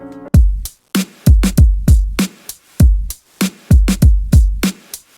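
Soloed MPC drum pattern of punchy kicks and crisp snares or claps in a steady, looping groove, loud and up front with no talking.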